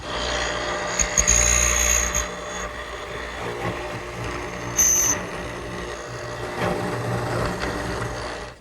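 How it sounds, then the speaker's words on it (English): A hollow chisel mortiser grinds and bores into wood with a steady rasping hum, broken by a few sharper squeals and bursts as the bit cuts. "I've readjusted my mortiser, and we'll drill those out"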